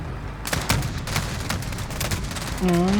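Gunfire in a video game played on a 3080 iGAME graphics card, a quick burst of sharp close shots followed by a rising tonal hum near the end.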